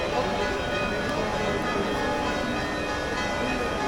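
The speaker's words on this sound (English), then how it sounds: "If any of you guys know what the bell ringing means, please let me know in the comments." A church bell rings in Rome through a steady wash of outdoor city noise, the tolling distant and blended into the broad background.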